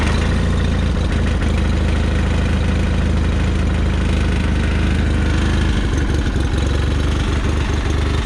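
A John Deere 318 lawn tractor engine idles steadily and loudly, its low rumble uneven with occasional stumbles and rough patches throughout.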